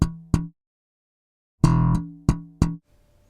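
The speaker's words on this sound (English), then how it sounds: "This exercise is a slap and pop groove that uses fretting hand slaps and double stops." Slap and pop bass groove with fretting-hand slaps and dead notes: two sharp percussive slaps, a pause, then a quick run of four more punchy slapped and popped notes, close and dry, no talk.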